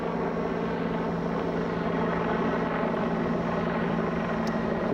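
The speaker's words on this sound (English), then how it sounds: "that helicopter just hanging loose all evening" Helicopter hovers overhead in the evening, a steady droning rotor and engine hum holding constant throughout, moderately loud with no talking.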